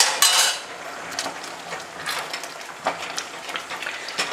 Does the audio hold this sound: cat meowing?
no